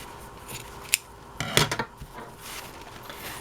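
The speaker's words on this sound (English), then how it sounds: "I'm just going to take my scissors" Scissors snip a layered paper napkin, a sharp single cut followed by a short cluster of quick crisp snips and faint rustling, close and otherwise quiet.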